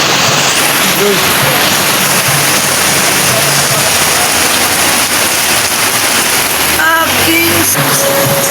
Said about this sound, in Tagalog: grabe sobrang lakas talaga ng ulan